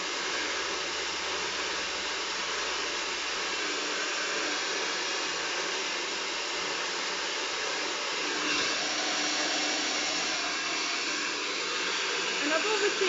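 A hair dryer blows steadily at a fairly loud, constant hiss for over ten seconds during a blow-dry styling session, with no talk.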